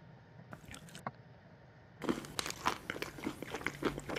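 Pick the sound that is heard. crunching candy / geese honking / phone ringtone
crunching candy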